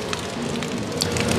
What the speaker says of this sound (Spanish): Así es que durante todo el día vean la lluvia